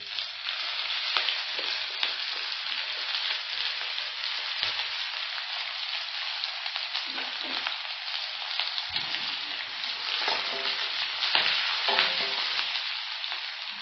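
Onion sizzling in hot oil in a pan while cooking rava kichadi, a dense continuous frying hiss with occasional scrapes of stirring, close and fairly loud, no talking.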